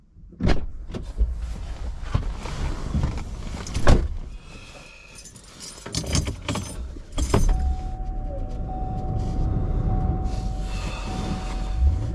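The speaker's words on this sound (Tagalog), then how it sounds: "Inaabot pa ako ng train" Close, loud rumble and clatter of a train in Canada, with sharp knocks and a rising whine, then a sustained tone over steady rolling noise.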